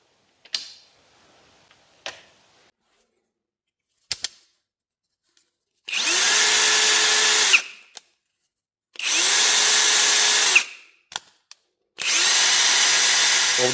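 A Parkside Performance 12V cordless drill, model PPBSSA 12 A1, whirs loudly in three separate sustained bursts of about two seconds each, with a few sharp clicks and handling taps in the quiet gaps between them.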